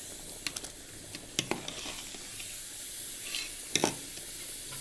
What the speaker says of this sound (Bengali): এবার এইভাবে অনবরত নাড়তে হবে ভিতরে লেগে যাবে